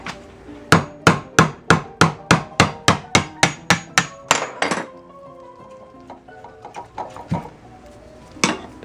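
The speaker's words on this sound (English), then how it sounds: "I'm gonna break the coconut apart and put it aside" A coconut is struck repeatedly to crack it open, a fast regular series of about a dozen sharp hard knocks close by, followed by a few scattered clatters and a final knock.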